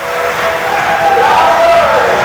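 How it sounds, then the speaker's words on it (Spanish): A large audience at a stage event applauds steadily with a dense, sustained wash of clapping and some cheering as a speaker is welcomed onstage. "Vamos a darle un gran aplauso y le invitamos a que suba al escenario."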